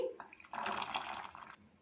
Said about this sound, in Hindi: एक पैन में 3 गिलास पानी डाला है